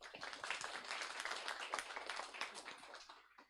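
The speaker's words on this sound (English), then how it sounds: "please give a big round of applause" At an international network launch event, the audience gives a round of applause, a short, faint but dense spell of many hands clapping that fades out after a few seconds.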